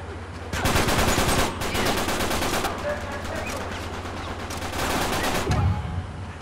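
Bursts of automatic gunfire in the video game Uncharted 3, loud rapid shooting in several sustained stretches with brief pauses between them.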